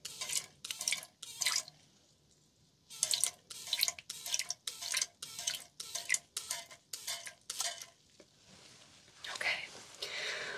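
Water from ear irrigation dripping and trickling in a close ASMR setting, heard as a series of bright, wet bursts with brief pauses between them and a softer trickle near the end.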